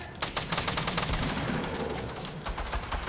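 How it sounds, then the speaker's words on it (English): Rapid bursts of video game gunfire crackle in quick succession, a steady volley of sharp, slightly distant shots with no one speaking. "All them gunshots, we gotta go help him."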